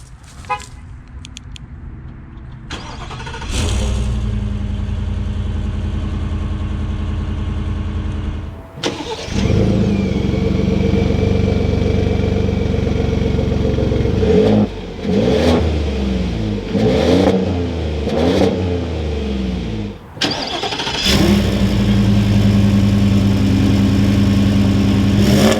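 A 2022 Ford F-150 with the 5.0 V8 starts up, settles into a loud idle, then revs hard several times with deep rising and falling bursts. The exhaust is close and strong, with brief dips between the revs.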